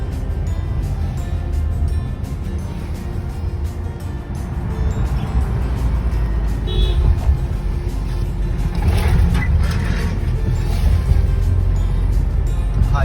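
Steady highway traffic rumbles past on a bright, clear day, a continuous broadband roar of cars and heavier vehicles that builds slightly louder toward the end, with no talking.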